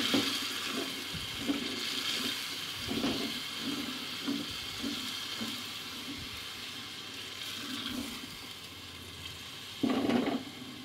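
Spice paste frying over high heat in a karahi for butt karahi, a steady sizzle with intermittent scraping stir strokes throughout and a brief louder burst near the end, no talking.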